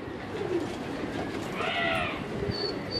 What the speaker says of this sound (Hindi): जिस तरह से ये हल्का हल्का सा सिर्फ इन्हें उड़ा रहे हैं इस वक्त, कि थोड़े थोड़े से कबूतर गर्म हो जाए